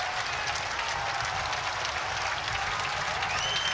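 A loud baseball crowd at an Ole Miss vs Nebraska game cheers and claps in a sustained roar of applause, dense and unbroken for the whole stretch.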